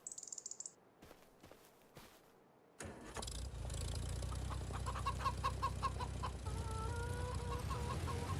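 Chickens clucking and a rooster calling in a slow-paced farming video game, sounding over a steady low engine-like hum with repeated bird calls after a brief quieter start.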